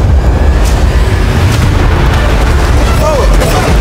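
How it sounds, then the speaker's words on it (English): Fireworks exploding on a yacht, a loud continuous barrage of booms and crackling bursts with a whistling rocket near the end, with voices heard under the noise. "Fire the fireworks!"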